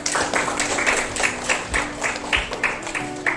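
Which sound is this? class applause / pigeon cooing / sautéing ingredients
class applause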